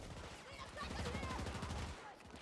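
Gunfire in the video game Battlefield 2042 sounds as rapid, fairly faint bursts of automatic shots clattering in steady rhythm over game noise.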